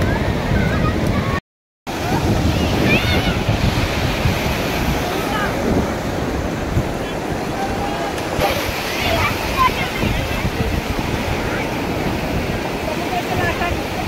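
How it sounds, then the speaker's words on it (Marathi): Sea waves at Juhu beach rush and surge continuously in a broad wash, with heavy wind buffeting the microphone and voices at times, broken by one brief dropout near the start. "हे बघा लाटा कशा येतात."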